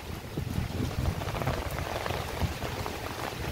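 Heavy rain pours on a garden of potted plants during a windy storm, a dense, even hiss of drops hitting leaves and surfaces, close and continuous with no talk.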